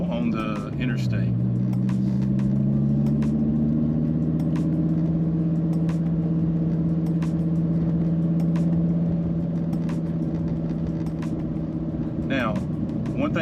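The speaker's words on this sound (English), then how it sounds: "I want to do a 30 to 100 or a 50 to 100 pull on the interstate." Dodge Viper GTC accelerating hard on the interstate, a steady loud engine drone whose pitch climbs through a long pull and drops at a shift near the end, with road roar underneath.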